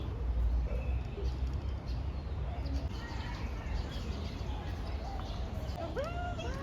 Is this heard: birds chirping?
yes